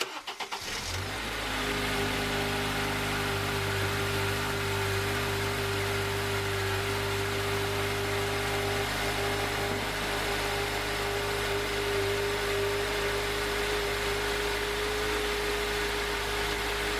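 A 2.4L Honda Accord engine starts and settles into a steady, loud, close idle with a constant hum while power steering fluid is pumped out, and no one speaks.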